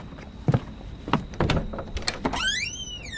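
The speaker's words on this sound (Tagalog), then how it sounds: "bubuksan ko lang yung pinto." A house door opened at night, close, with several knocks and thunks from the latch and handle, then a rising, bending squeal as it swings open.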